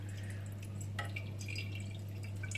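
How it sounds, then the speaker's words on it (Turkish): Homemade lemonade being strained through a cloth, with faint, sparse drips falling into liquid over a steady low hum. "Şimdi bu şekilde güzelce süzüyoruz."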